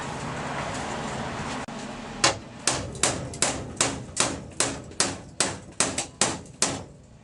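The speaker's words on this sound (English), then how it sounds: "Just hammer it. I'm gonna go and get the hammer." Steady hammer blows on the metal of a Ford Cortina Mk3 estate car, about a dozen sharp clanging strikes in an even rhythm, loud and close, after a moment of quiet background noise.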